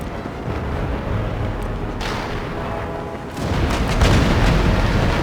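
Naval cannons in Empire: Total War boom out in repeated deep blasts, a rolling barrage that grows louder and denser toward the end, with a distant rumble of battle underneath.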